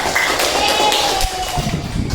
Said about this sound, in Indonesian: Oke, tepuk hebat untuk kelompok 1.